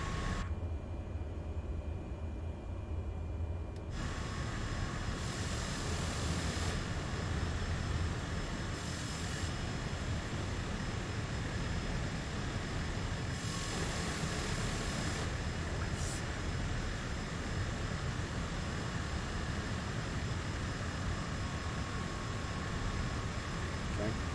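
An airliner in a Neofly flight simulator taxis with its jet engines running: a steady, loud roar and whine throughout, with brief bursts of extra hiss and noise here and there.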